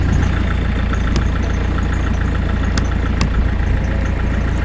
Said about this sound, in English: We're now out of gear. Stick it in reverse and hopefully this will move up.